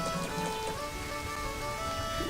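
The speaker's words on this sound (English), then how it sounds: "now there's the rain." Steady rain falls in The Legend of Zelda: Majora's Mask, a dense even hiss of drops that holds at a constant level throughout, with soft game tones beneath and no talk.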